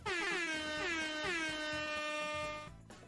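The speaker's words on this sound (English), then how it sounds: "like this air horn." An air horn sound effect blares loud and close, a long brassy blast with a few pulsing bursts at the start, holding for over two seconds before cutting off abruptly.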